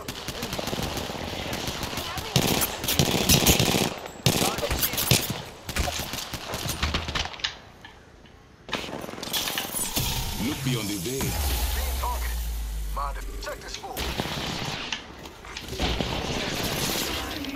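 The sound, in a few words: shotgun gunfire from the video game Apex Legends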